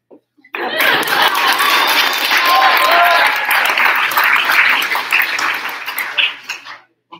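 A school senior showcase audience bursts into loud, dense clapping that holds steady for several seconds before tapering off, with a little laughter mixed in.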